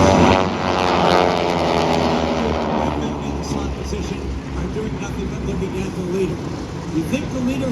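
Propeller aircraft flying in close formation at the Dayton Air Show, a loud, steady engine roar that stays close throughout while an announcer talks over it.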